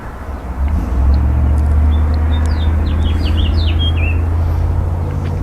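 A small red-headed finch sings a quick series of bright, high chirps over a steady low rumble of traffic.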